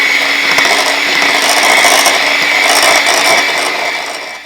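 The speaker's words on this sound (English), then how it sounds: "then I'm just going to start to use our mixer" A handheld electric mixer beats frosting made with confectioner sugar and chocolate, giving a loud, continuous whirring hum with a scraping, rubbing texture close by, fading slightly at the end, with no voices.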